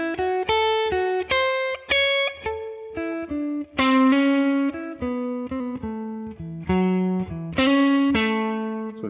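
A blues guitar solo rings out loud and alone, with a run of sharply plucked notes and short phrases with slight distortion, some notes bent and sustained.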